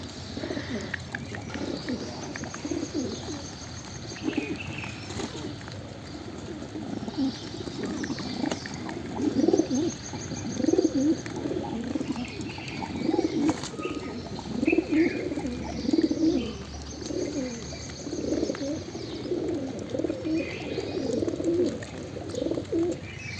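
A freshly caught, unusually patterned pigeon coos steadily in low, throaty, repeated phrases, close and continuous, with faint light chirps in the background and no talking.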